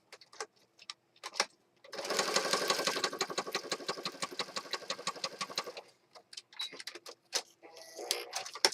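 A sewing machine stitching paper journal elements runs in a rapid, even mechanical chatter for about four seconds, preceded and followed by scattered clicks and handling taps at a quiet level.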